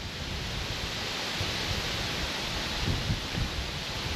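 Strong, steady wind of an approaching storm roaring across a riverside campsite by the Yantra, a broad constant rush with low gusty buffeting against the tent, no voices.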